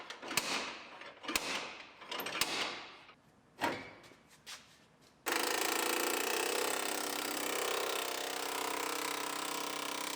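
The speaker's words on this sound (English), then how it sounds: "Just keep hammering on it, maybe it'll come out." Hammer blows on the damaged body panel of a 2018 GMC Sierra Denali pickup, several sharp irregular metallic strikes up close, then a steady loud broadband grinding or cutting noise takes over for the rest.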